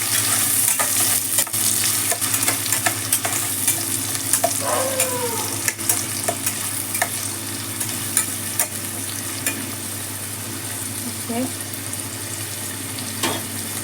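Thinly sliced onions frying in oil with cumin seeds, stirred in a pan: a loud, continuous sizzle broken by repeated scraping and clinking strokes of the spoon, with no one talking.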